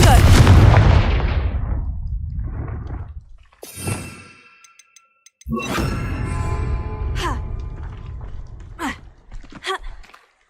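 A Confringo blasting spell fires in Hogwarts Legacy, a loud burst of crackling energy, followed after a short quiet by another long, dense blast with ringing, sweeping magical tones fading out near the end.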